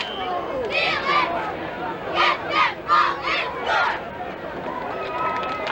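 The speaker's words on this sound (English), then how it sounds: "Big crowd here for the opener at Legion Field." A big crowd at a high school football opener at Legion Field, Weymouth versus Leominster, roaring and chanting in rhythmic bursts from the stands, loud and spread out, with chatter underneath.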